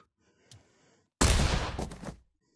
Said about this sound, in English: something like this is an MK1 frag grenade